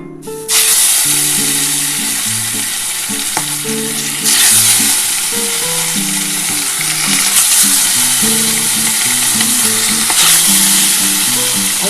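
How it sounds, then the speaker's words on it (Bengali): Rohu fish fries in hot oil at home, giving a loud, continuous sizzle and crackle with bursts of spitting, steady and close throughout with no talking. "আমার তেলটা গরম হয়ে গেছে আমি মাছটা ভেজে নিচ্ছি"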